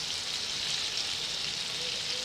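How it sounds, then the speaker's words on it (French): Tomatoes frying in a pan for tomates à la provençale give off a soft, even sizzle, a steady hiss that holds at low volume throughout with no voices. "On sent que ça frit un peu maintenant."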